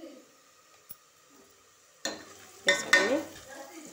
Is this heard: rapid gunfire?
no